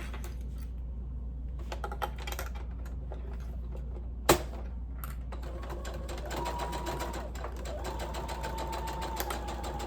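A home sewing machine bastes fabric, its needle running in a fast, steady mechanical chatter over a low motor hum, with a sharp click partway through and a faint whine as it continues.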